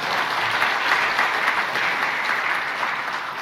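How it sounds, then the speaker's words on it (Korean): A church congregation claps in encouragement for the choir, a dense, steady round of applause that stays loud throughout. "우리 찬양대 잘했으면 격려 박수 한번 하십시다."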